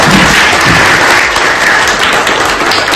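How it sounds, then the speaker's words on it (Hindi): A crowd at an Ayurveda institute event bursts into loud, continuous applause, a thick wash of clapping that holds steady throughout with no voices over it. "तालियां।"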